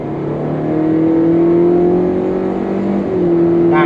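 A 2023 Hyundai Stargazer Essential engine rises in revs after being switched into sport drive mode, a steady close hum that climbs in pitch, holds, then shifts briefly as a simulated gear change kicks in.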